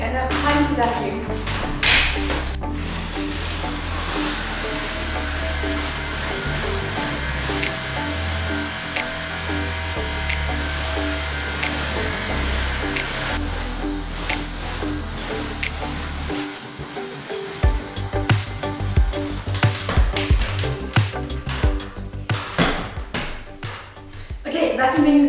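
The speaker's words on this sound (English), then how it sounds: "Okay, and now time to vacuum." A vacuum cleaner runs with a steady whirring drone in a bathroom, later giving way to bumping and knocking as it moves around, with a voice talking over parts of it.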